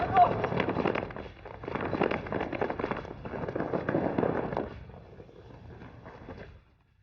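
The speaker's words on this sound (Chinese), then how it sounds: "刚刚听枪声" Gunfire rings out during a battle between Japanese special forces and a mountain stronghold in a wartime drama. Rapid crackling volleys come in several dense bursts and then fade, with voices mixed in.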